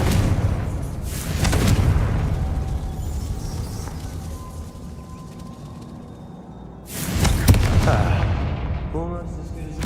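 A Confringo fire spell detonates in Hogwarts Legacy, landing as two loud, broad booming blasts, one early and one late, with rumbling crackle trailing after each and a quieter stretch between.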